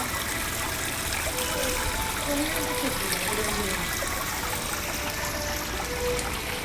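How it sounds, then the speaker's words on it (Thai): A waterfall at a temple cave site pours steadily in a dense, continuous rush, with voices faintly mixed in beneath the water. "นี่ไงน้ำตก"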